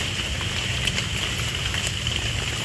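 Light rain patters steadily and evenly outdoors during a forest mushroom-picking outing, a soft continuous hiss of drops on leaves and ground with no voices.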